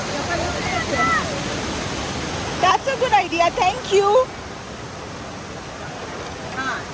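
Waterfall pouring beside a restaurant where diners sit on the water, a loud, constant rushing roar that holds throughout while a few people speak briefly over it in the middle.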